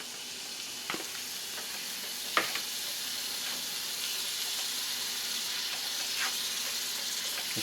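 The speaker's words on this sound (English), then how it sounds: "over here I've got a pan warming. I'm going to warm up my jalapenos." Chopped jalapenos warming in a frying pan give off a steady, close sizzle and hiss, with a few soft clicks of stirring over the constant frying sound.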